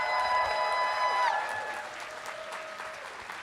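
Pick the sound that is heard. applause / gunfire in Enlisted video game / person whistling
applause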